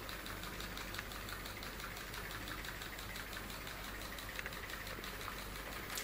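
A small toy put-put boat engine runs steadily on its own, a continuous faint putter with an even fast pulse and no talking.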